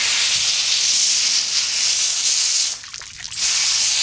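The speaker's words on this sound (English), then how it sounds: "We're going to just hose that out so it gives us a nice clean crab to cook and eat at the table." A hose sprays a steady, loud hiss of water into a cleaned blue crab, the rushing stream briefly dropping out for a moment before resuming at full force.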